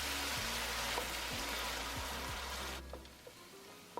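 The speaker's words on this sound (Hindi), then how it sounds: "अब हम प्याज को कुकिंग ऑयल में डाल लेंगे और 1 से 2 मिनट के लिए हम फ्राई करेंगे" Chopped onions frying in hot cooking oil, a loud, steady sizzle that runs close and continuous for most of the time, then drops away abruptly, leaving faint clicks and quiet pan noise.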